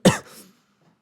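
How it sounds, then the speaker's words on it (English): A single sharp, harsh cough in the visual novel game Tsukihime bursts out, followed by a fainter raspy tail, then near silence. "I collapse to my knees and cough."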